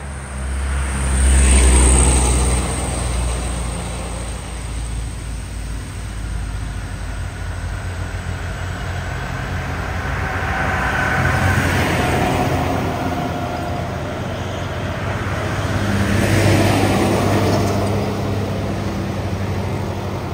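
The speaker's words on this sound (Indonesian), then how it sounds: "Nah, ini truk yang mundur tadi ya. Ini akan dicoba lagi menanjak." Truck engine straining nearby as the truck reverses and then climbs uphill, a steady low rumble swelling and easing in slow waves without any voices.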